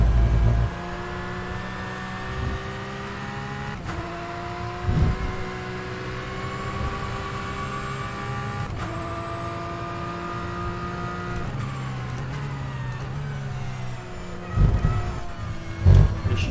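A race car engine in rFactor 2 holds a steady, droning high-pitched whine with slight rises in revs, running continuously and fairly loud, broken now and then by brief thumps and clicks, with no talking.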